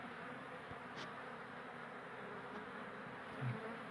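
Honeybees drone in a steady, close buzz while a beehive is removed from a bathroom on a hot day, with single bees zipping past the microphone now and then.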